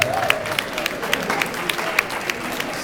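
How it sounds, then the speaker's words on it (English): Wedding guests at a reception clap for the couple, a short burst of steady applause with distinct individual claps close by over a murmuring room. "give them a round of applause"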